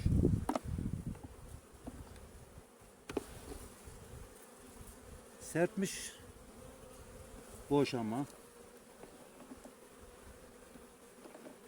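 A steady, close buzz of bees around a hive hums throughout, with a few brief louder passes and some clattering, while a person murmurs occasionally.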